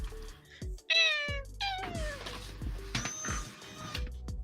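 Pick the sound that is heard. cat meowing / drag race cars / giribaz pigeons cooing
cat meowing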